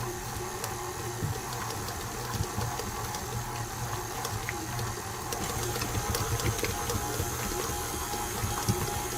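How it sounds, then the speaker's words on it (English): Electric stand mixer running on low, creaming butter for a soda pop bundt cake, giving a steady, continuous motor whir with faint rattling throughout. "Now we're going to mix this all up in the mixer."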